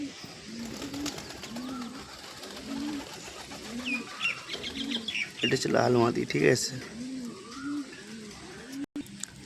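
Pigeons coo in a steady, repeating low rhythm, with someone speaking briefly over them and a few chirps nearby.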